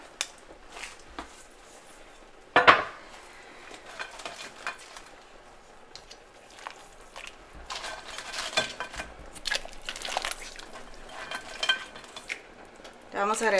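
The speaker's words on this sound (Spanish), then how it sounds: "Aquí ya le agregué todas las jaibas" Whole crabs dropping into a pot of simmering Mexican seafood broth with vegetables, shrimp and fish, giving a sharp clatter near the start, then intermittent clinks, splashes and stirring scrapes over a low bubbling background.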